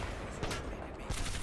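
Gunfire in the video game Apex Legends, with a few punchy shots cutting through dense, noisy game sound at moderate volume and no clear talking.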